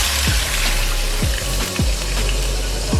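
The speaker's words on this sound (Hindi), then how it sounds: "अब इसी पैन के अंदर हम डाल देंगे 1 kg पानी" Water poured into a cooking pan for rice, a loud close continuous splashing rush with a few low knocks and thumps as the pan is handled, and no voices.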